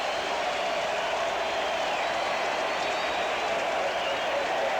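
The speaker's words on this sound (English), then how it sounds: "The crowd loves it." A baseball stadium crowd roars and applauds as the Mets score a run, a dense, sustained wash of cheering and clapping heard at a distance.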